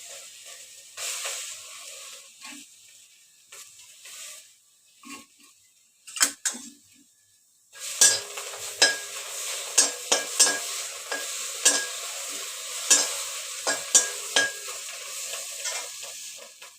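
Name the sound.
dry roasting tamarind, curry leaves, dried chillies, garlic, onion in pan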